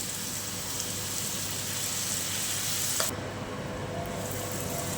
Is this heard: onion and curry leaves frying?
yes